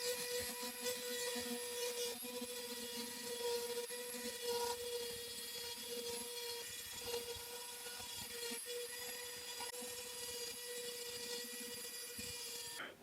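A rotary tool runs steadily with a 325 grit European sintered diamond bur, a continuous high whine with faint grinding texture as the bur polishes a surface, holding at an even level throughout with no talk.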